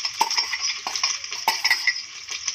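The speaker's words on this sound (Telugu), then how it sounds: "దీనిని బాగా మిక్స్ చేయాలి ఎగ్గుని మంచిగా మిక్స్ చేయాలి" Beaten egg stirred in hot oil for egg fried rice, with sharp metallic scrapes and clinks of a spatula against the pan in an uneven rhythm over a faint sizzle.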